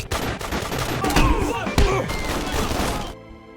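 Loud gunfire from a shootout scene in a spy action film, dense bursts of shots mixed with thuds and impacts, then cutting off abruptly into near silence.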